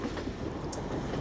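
Train rolling past in Garry's Mod: a brief, steady rumbling rush of rail noise throughout, with no talk.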